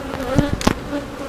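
Honeybees from a relocated swarm buzz at a beehive, a steady close drone with a few louder passes as individual bees fly near.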